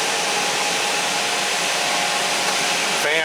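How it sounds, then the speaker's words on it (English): Fan of a WCP-350 washer compactor running, a steady loud broadband whooshing roar with a faint whine, continuous throughout. "Fan is running."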